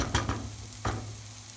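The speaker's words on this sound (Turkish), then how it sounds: "Yağımız kızdıktan sonra yemeklik doğradığımız bir adet kuru soğanı ve 2 diş sarımsağı koyalım ve güzelce kavuralım." Close sizzling of onion and garlic sautéing in hot oil in a pan, with a few quick stirring scrapes at the start, then a softer steady fry.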